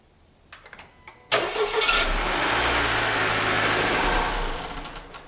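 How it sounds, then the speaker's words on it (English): A few faint clicks, then a 2018+ Honda Accord's engine abruptly catches and roars to life after a flex fuel (E85) kit install, running loud and steady before easing slightly. "Now we're ready to start the car."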